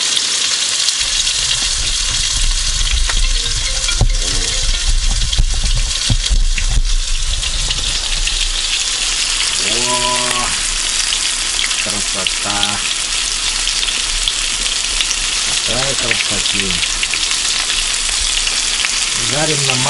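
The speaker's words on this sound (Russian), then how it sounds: "Жарим на манке." Pike coated in semolina sizzling steadily in hot oil in a tent, a constant crackling hiss with occasional brief voices and squeaks in the background.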